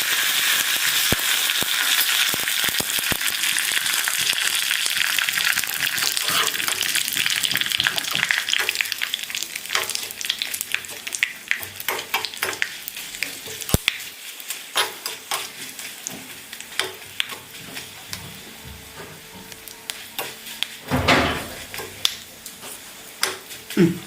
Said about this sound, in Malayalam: കടുക് പൊട്ടിട്ട് അന്നേരം നമുക്ക് ഇട്ട് കൊടുക്കാം